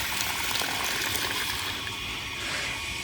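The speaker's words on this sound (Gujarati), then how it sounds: "અહીંયા સરસ મજાનું પાણી ચાલુ કરી દીધું છે" Tap water runs steadily for washing clothes at home, a continuous broadband gush at close range that does not let up and has no talk over it.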